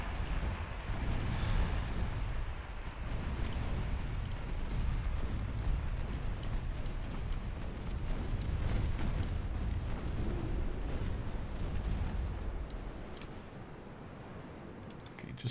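A torpedo strikes a ship during a naval battle in a Warhammer strategy game. It sounds like a long, rumbling barrage of muffled blasts and crackling debris that stays loud and dense before easing off near the end.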